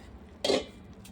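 A lid comes off a cooking pot on a clay stove as a single brief metallic clank, close and moderately loud, with a faint clink just after. There is no talking.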